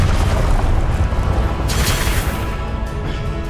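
A Confringo fire spell exploding in the Hogwarts Legacy video game, a loud booming blast with a rumbling low tail that fades over a few seconds, with no speech.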